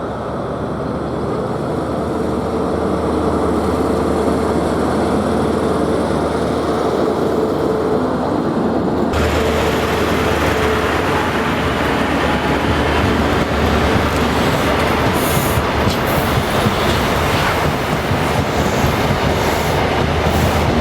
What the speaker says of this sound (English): ScotRail HST, formed of 43146 and 43148, leave as empty stock to return to Haymarket Depot